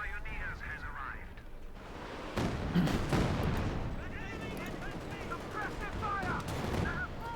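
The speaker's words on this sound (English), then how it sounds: "Katyusha firing away there." Katyusha rocket artillery fires in the strategy game Company of Heroes 2, a dense roar of launches and explosions rolling continuously in the background while a commentator talks over the battle.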